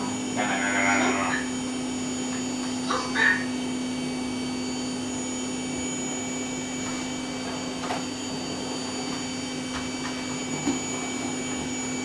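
A household vacuum cleaner runs steadily on a carpet with a constant whirring drone, fairly close, while people's voices talk briefly over it near the start.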